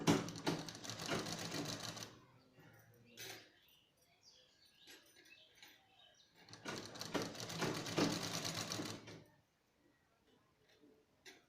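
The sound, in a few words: sewing machine stitching a border on a frock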